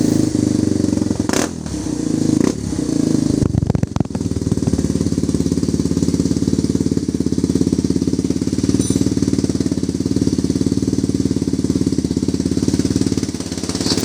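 A Kawasaki KLX 230RS dirt bike with a Yoshimura full exhaust system runs loud and close for the whole stretch, a steady throbbing exhaust rattle with a few sharp blips near the start.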